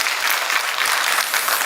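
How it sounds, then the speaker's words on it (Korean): Steady, dense applause from a church congregation for the choir, loud and even throughout with no pauses. "우리 대원들에게 여러분 큰 박수 한번 해주시면 고맙겠습니다"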